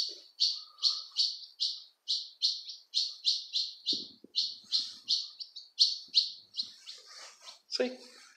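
Small birds, a pigeon among them, call at an abandoned site: a rapid run of sharp, loud repeated chirps in an even rhythm, close by, with brief low rustles and a short voice near the end.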